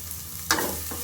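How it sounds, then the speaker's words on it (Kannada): Crushed ginger-garlic paste hits hot oil in a pan with a sudden sizzle and brief stir, close and short, with a steady low hum behind it. "ಸೊ ಚೆನ್ನಾಗಿ ಫ್ರೈ ಮಾಡೋಣ. ಹಾಗೆ ಜಜ್ಜಿಟ್ಟಿರೋ ಶುಂಠಿ ಬೆಳ್ಳುಳ್ಳಿ ಪೇಸ್ಟು"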